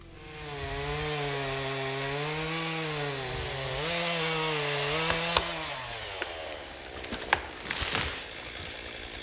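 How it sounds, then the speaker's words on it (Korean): A chainsaw cuts into a pine tree about 40 cm thick, its engine a loud, steady snarl that bogs and lifts in pitch as the blade bites. Sharp cracks and knocks of wood come near the end. "나무를 베어 더 정확한 나이를 알아보죠."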